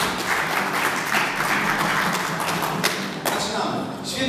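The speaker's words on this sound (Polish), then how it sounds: "Brawa dla Jelis." Applause from a concert audience after a young female singer's performance of her own song at a guitar music event in Lubiąż, a dense steady wash of many hands clapping throughout with no voices standing out.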